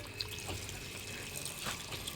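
Mission Bhagiratha drinking water runs from a tap, a soft steady trickle and splash at moderate distance with no talk over it.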